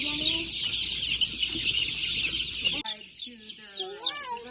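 Chickens, including cinnamon queen laying hens, clucking and squawking close by in a barnyard, a steady busy chatter with rising calls toward the end, under faint background noise.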